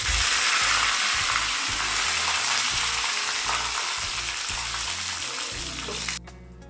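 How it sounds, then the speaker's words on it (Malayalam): Curry leaves sizzle loudly in hot oil after mustard seeds have popped, a tempering for a Kerala-style instant mango pickle; steady close frying hiss with crackle throughout, cutting off abruptly near the end. "കടുകെല്ലാം നന്നായി പൊട്ടിക്കഴിഞ്ഞതിന് ശേഷം രണ്ടോ മൂന്നോ ലീഫ് കറിവേപ്പില ചേർക്കാം"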